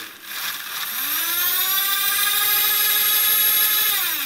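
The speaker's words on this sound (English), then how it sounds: "So what we have here is a miniature generator." A miniature generator's motor drives a small propeller, spinning up after a moment into a loud, steady, high-pitched whine that holds evenly to the end, with no voices over it.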